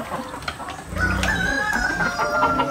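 Chicken crowing and clucking in a flooded backyard farm, a drawn-out crow rising over steady background noise, fairly close and unaccompanied by talk.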